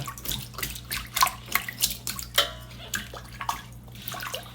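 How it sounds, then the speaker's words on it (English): Red snapper being scaled with a spoon under a running tap, the water splashing steadily while the spoon scrapes in short irregular strokes close by, with a faint low hum beneath. "You could use a spoon under the water, see, just to remove all of your scales."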